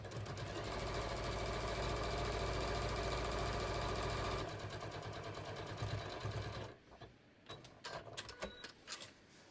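A sewing machine fitted with a walking foot stitches fabric for a beach tote, running in a loud, steady mechanical whir for several seconds before slowing and stopping, followed by a few faint clicks and handling noises.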